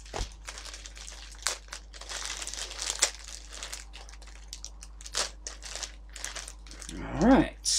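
A package is being cut open, with intermittent crinkling and crumpling of wrapping plus sharp rustles and snips close by, and a person's voice briefly heard near the end.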